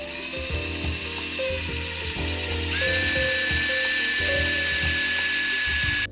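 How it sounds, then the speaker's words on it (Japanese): A motorized polisher buffs a vinyl record, giving a steady mechanical whir with a ratcheting, drill-like whine that rises in pitch partway through, close and continuous with no speech. "今日もね、レコード盤磨いていきたいと思います"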